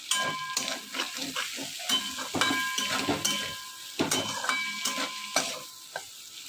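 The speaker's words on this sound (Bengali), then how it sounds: "একটু ভালো করে পেঁয়াজগুলো ভাজি।" Onions sizzling and frying in a pan with steady crackle, broken by repeated stirring and scraping of a utensil against the pan.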